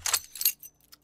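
A bunch of keys jangling close by in two short rattling bursts, then fading into a few faint clinks, with no talking.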